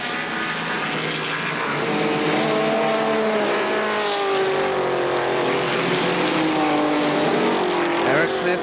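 ARCA SuperCar stock car circling the oval at Kil Kare Speedway on worn old tires, a loud sustained engine roar with rising and falling pitch as other cars pass, steady throughout.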